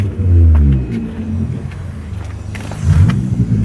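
A 2012 vehicle with a 392 Hemi V8 and 57,000 miles idles at a dealer-only auto auction. Its engine rumbles deep and close, swelling near the start and again near the end.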